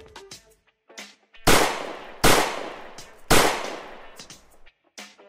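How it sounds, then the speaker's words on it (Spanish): Three loud, sharp gunshots fired into the air, evenly spaced about a second apart, each cracking and decaying with a short echo, with quieter scattered knocks and movement noises before and after. "echa unos tiros al aire."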